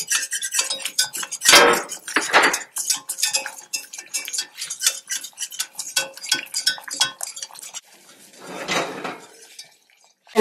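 A spoon or whisk stirring melted butter and all-purpose flour in a pan for a Thanksgiving gravy, quick rhythmic metallic scraping and clinking against the pan, loud and close, with no voices.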